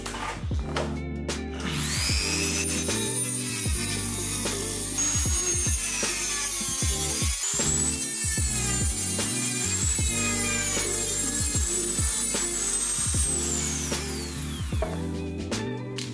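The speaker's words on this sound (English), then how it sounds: "Then use the cutting machine to cut off the shell." A cutting machine saws through the plastic shell of a Hama 45W dual USB-C car charger, a continuous high whining grind with rough scraping pulses, close and loud throughout, no talk.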